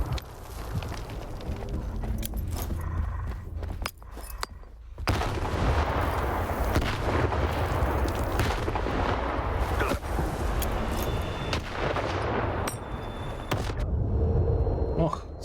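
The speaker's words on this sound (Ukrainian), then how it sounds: "Батя кинув гранату собі під ноги." Dense game combat in S.T.A.L.K.E.R. 2: Heart of Chornobyl, with a grenade thrown at the player's own feet. A loud broadband blast near the five-second mark is followed by sustained roaring noise and repeated sharp gunfire-like cracks.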